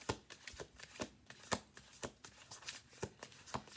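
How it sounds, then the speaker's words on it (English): Playing cards are shuffled close by, with repeated quick riffles and taps in a steady rhythm, each one a crisp, papery burst that is soft overall. "Let me do 2 more shuffle throughs."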